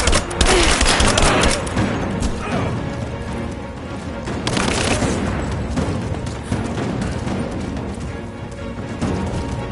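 Heavy gunfire in Rise of the Tomb Raider, dense rapid bursts and booming impacts filling the whole stretch, loud and close, with shouted voices breaking through the combat.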